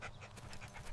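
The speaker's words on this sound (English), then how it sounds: "Dog. This is a dog." A dog pants rapidly and close by, with quick rhythmic breaths in and out throughout and no other sounds.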